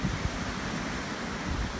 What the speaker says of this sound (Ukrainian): Вітер бешений.